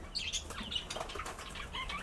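Pet lovebirds flapping their wings as they come for a carrot, close, quick bursts of fluttering mixed with sharp high chirps and tweets, with no talking.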